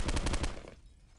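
A rapid burst of about six loud, close gunshots in a shooting video game, fired in quick succession before the sound drops away into quiet room tone.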